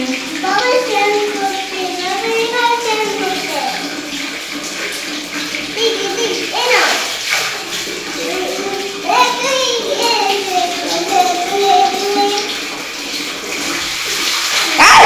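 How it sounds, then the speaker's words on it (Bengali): Water splashes and sloshes steadily in a bath as a young girl bathes her little sister, with children's voices chattering and calling over the running water throughout. "মিহিকা তার বোনকে স্নান করাই দিচ্ছে"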